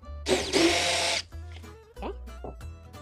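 A power drill drives a screw into a freehand-drilled pocket hole with a countersink in wood, giving a loud, steady whir of about a second that then stops, followed by fainter clicks and short scraping sounds.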